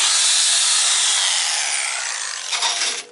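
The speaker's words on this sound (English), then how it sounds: "gives me a chance to play with power tools" A power tool grinds loudly and steadily against the rusty battery tray of a 2001 EZ-GO TXT golf cart, a harsh continuous abrasive roar that wavers slightly near the end.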